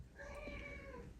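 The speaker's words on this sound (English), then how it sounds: "excuse my cat there" A house cat gives a single drawn-out meow, close but soft, against a quiet room background.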